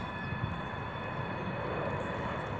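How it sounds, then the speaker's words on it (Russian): A low-flying airplane passes over Washington near Reagan airport, its engine a steady broadband roar that holds at a constant loud level throughout. "вот, летит самолет"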